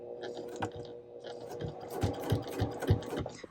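A sewing machine stitches binding onto a quilt at a stitch length near 3, a soft, fairly quiet mechanical whir with a regular pulsing beat of the needle, heard close and alone.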